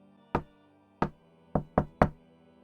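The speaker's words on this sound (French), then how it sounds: "On frappe à la porte." Five crisp knocks on a door, the first two spaced apart and the last three quicker together, clear and close in an otherwise quiet room with no talking.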